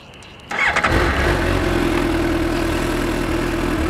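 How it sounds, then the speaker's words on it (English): A 2015 Suzuki GSX-S 750 motorcycle engine cranks and catches after a short quiet moment, then settles into a steady, close, rumbling idle. "Fires right up and sounds really great too."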